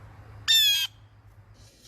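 A pet bird lets out a single loud, harsh squawk lasting under half a second, followed by a fainter second call, against a quiet kitchen background hum.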